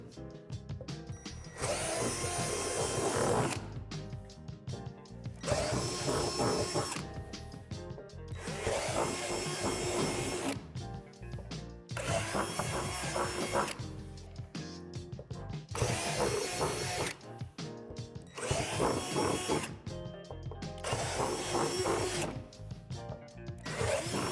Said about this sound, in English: drill out these 4 divots on the back side of the panel with a 3/8 drill bit